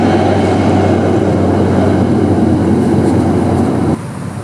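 A tram passes through Helsinki, a loud continuous low rumble and hum of wheels on rails close by, cutting off abruptly near the end.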